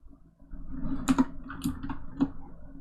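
A handful of keystrokes on a computer keyboard while code is written, a short uneven burst of soft, close clicks over a quiet room.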